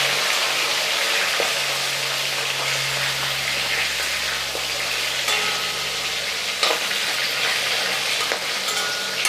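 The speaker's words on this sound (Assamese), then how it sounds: "মই বৰালি মাছ ভাজিলে সদায় এনেকৈ ভাজোঁ," Borali freshwater shark fish frying in a pan under a lid, a steady muffled sizzle with a few faint clicks, continuous and close, no voices.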